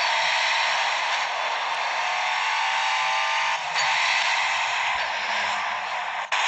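A car engine in a PlayStation Vita racing game drones steadily with a continuous whine through a one-mile race, shifting slightly in pitch now and then, loud and close with no speech.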